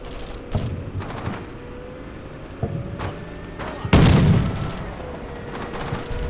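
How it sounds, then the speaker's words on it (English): Gunfire and a heavy boom ring out as a tank assaults a building in the Combat Mission Shock Force war game, with scattered single shots and one louder blast over a steady high insect-like hum. "This tank is assaulting this building"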